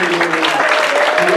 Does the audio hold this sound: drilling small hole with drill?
no